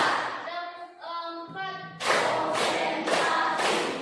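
Classroom pupils clap in bursts of sharp hand claps between chanted counting, the group chanting in rhythm and then snapping into loud clusters of clapping near and together.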